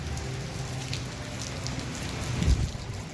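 Heavy rain pours steadily on a car during a storm, a dense, constant hiss with a brief louder thump near the end.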